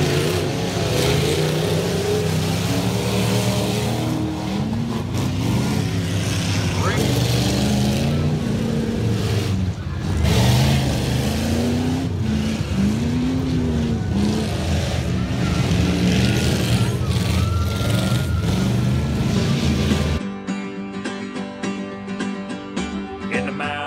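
Cars and trucks race at a combine demolition derby weekend in Lind, Washington, engines roaring and revving loudly and continuously with a crowd and announcer blended underneath, cutting off abruptly near the end.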